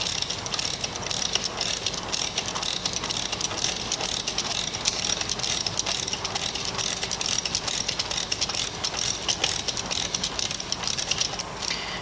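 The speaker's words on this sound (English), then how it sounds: "At this point, remove the ratchet wrench." A ratchet wrench drives a wedge through the end plate of a PLP splice closure, making a rapid, steady series of close, loud mechanical clicks that runs without a break.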